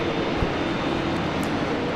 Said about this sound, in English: Jetstar Jaffa. We haven't seen this aircraft for a very long time